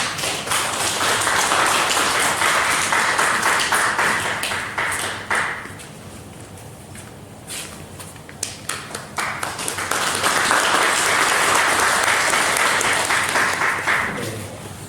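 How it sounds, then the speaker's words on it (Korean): Congregation at a Korean church Sunday service applauds vigorously, dense clapping filling two long bursts separated by a quieter stretch of scattered claps in the middle. "우리 나오실 때에 여러분들 받으실 때에 여러분들 힘찬 박수로 축하해 주시기 바랍니다"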